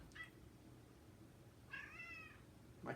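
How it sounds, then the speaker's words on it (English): A pet cat meows twice indoors, one short call near the start and a longer drawn-out one later, close and moderately loud over quiet room tone, with a third meow just starting at the end. "my cat loves throwing herself off places."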